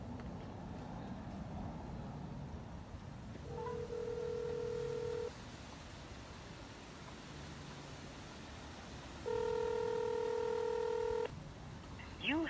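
A phone calling a friend's number gives two long, steady electronic tones separated by a pause, over a constant background hiss, with a faint click at the end.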